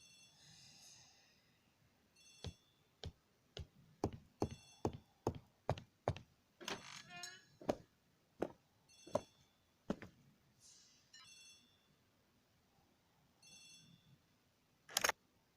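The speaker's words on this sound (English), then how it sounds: "The telephone in the hall is ringing." A telephone rings in a hall in a video game, a long series of sharp, evenly spaced rings, fairly clear and near, with short pauses and no talk over it.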